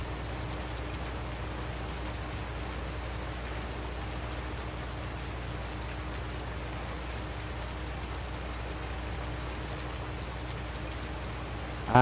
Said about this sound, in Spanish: ha estado lloviendo todo el vídeo